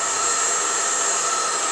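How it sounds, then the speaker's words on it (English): Hairdryer blowing hot air onto vehicle decals to soften their glue in a garage, a loud, steady whooshing roar with a high whine, held constant throughout. "Just play the hairdryer on them"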